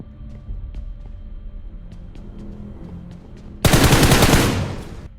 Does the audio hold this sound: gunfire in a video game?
yes